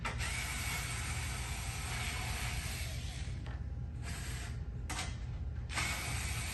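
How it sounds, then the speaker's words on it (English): A 1/4-inch hex driver backs screws out of a double-wall adjustable-length joint on an industrial chimney, giving a continuous ratcheting, mechanical whir that breaks into short gaps and bursts, close and fairly quiet. "What you're gonna need is your 1/4-inch hex head, and we're gonna remove these screws."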